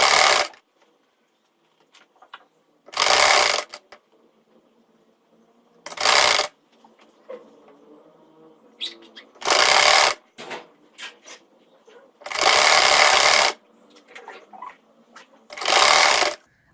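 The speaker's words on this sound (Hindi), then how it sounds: "चलें, अब हम सिलाई लगा रहे हैं इसको।" A sewing machine stitching cross piping onto cloth for a salwar poncha (trouser hem) runs in six short loud bursts of rapid whirring, separated by quiet pauses with faint handling and fabric clicks.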